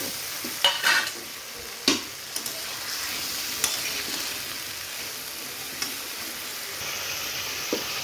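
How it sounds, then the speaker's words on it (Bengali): Spice paste and potatoes fry together in oil for a mango, potato and fish curry, a steady sizzle broken by sharp scrapes and clinks of a spoon stirring in the pan, close up. "এবার আলুগুলো দিয়ে দেবো একসঙ্গে কিন্তু আমি কষাবো মশলা আলু একসঙ্গে কষিয়ে"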